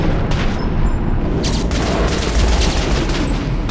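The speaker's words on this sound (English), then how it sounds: "I think I'm shooting." Gunfire in the video game Metro: Last Light, a loud continuous burst of rapid shots with heavy booming low end, filling the whole moment with no talk over it.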